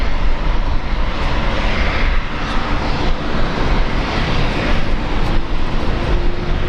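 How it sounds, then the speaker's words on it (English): A Virgin Australia airliner departing Brisbane Airport fills the air with a loud, continuous engine roar that stays close and steady throughout. "And bye-bye to this Virgin Australia flight."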